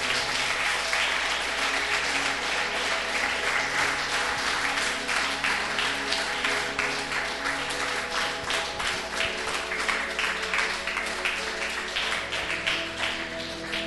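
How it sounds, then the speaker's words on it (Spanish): A church congregation applauds in a long, even burst of many hands clapping at a fairly loud, steady level, with a sustained musical tone faintly humming underneath. "Denle un aplauso al Señor Jesucristo si usted lo está entendiendo"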